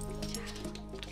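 A dog barking on command gives a short, high whining yip, close by and brief, with no talking.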